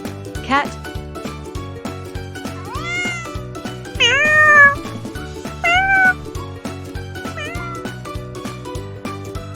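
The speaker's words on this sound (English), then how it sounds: "Cat." A cat meows over a busy musical backing track, several short rising and falling cries spread across the clip, the loudest near the middle, clear and close amid steady rhythmic beats.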